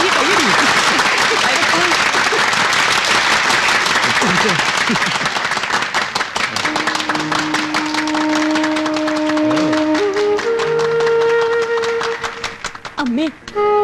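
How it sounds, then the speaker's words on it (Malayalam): A group claps at a photo moment in a film scene, quick scattered applause that thins out as voices and sustained music-like tones rise over it in the second half. "കയ്യടി കയ്യടി കയ്യടി കയ്യടി കയ്യടി."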